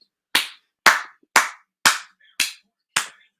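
Six sharp, separate hand claps ring out at a steady, unhurried pace, crisp and close, each decaying quickly into silence.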